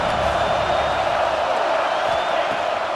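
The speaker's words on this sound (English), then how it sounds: "3rd down play in the red zone, and this crowd is at fever pitch." A stadium crowd in EA Sports College Football 26 roars steadily on a third-down play in the red zone, a dense, sustained wash of cheering and whoops under a commentator's voice.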